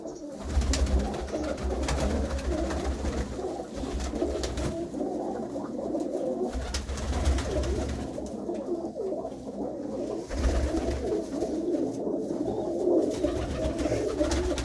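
Blue-tipped pigeons coo repeatedly in low throaty rolls, several birds close by, their calls pulsing in uneven waves over a steady low rumble.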